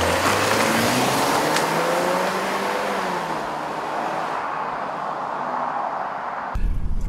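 A car engine drones steadily from inside or close by, its pitch shifting as it drives, with a sudden change in sound near the end.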